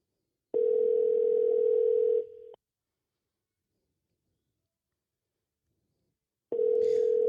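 Phone ringback tone on an unanswered call, a steady tone lasting about two seconds, then a long silent gap before the next ring starts, close and clear.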